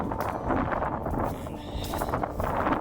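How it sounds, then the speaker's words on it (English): Strong wind buffets the microphone with a steady low rumble and gusty roar, loud and continuous throughout. "It's super windy now, so I'll try to cover up this audio"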